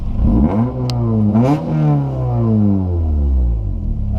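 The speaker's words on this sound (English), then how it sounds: "Okay, give me some revs." A Toyota AE86 engine revs up sharply, drops back, then revs again and holds a high, roaring pitch before easing down, loud and close.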